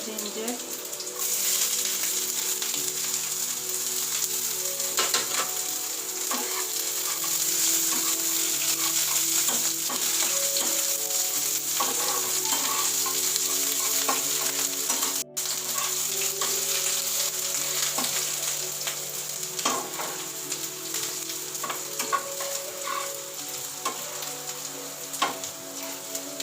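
Curry leaves, chopped garlic and ginger fry in a hot pan with a steady, loud, close sizzle and crackle, broken now and then by stirring scrapes, lasting throughout.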